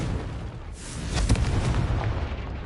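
A Confringo explosive spell goes off in Hogwarts Legacy: a deep, booming blast swells from a low rumble into a loud burst and lingers with crackling debris and rumbling tail.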